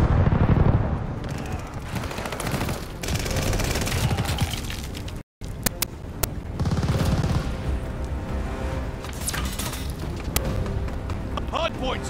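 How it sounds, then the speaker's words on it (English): Call of Duty: Vanguard multiplayer match with dense gunfire and heavy explosive bursts from an enemy aircraft strafing run, loud and continuous, with a brief gap midway and voices mixed into the battle. "Hostile strafe inbound."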